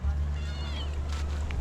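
A pet cat gives one faint, drawn-out meow that rises and falls, half-buried in a steady low hum and background noise.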